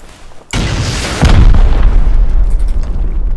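Rockets exploding against a metal base wall in the survival game Rust, a sudden loud booming blast followed by a second heavier impact and a rumbling, crackling tail, no talk.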